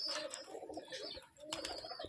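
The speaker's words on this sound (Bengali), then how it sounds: "আজ আপনাদেরকে আমি পায়রা দেখাবো, আমাদের বাড়ির পায়রা।" Domestic pigeons at a home loft, including Giribaz and Shirazi breeds, cooing and chirping close by in a short faint burst.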